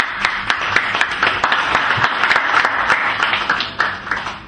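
An audience in a Brussels hall applauds at a book launch, with a dense, steady patter of many hands clapping at moderate distance, fairly loud and sustained throughout.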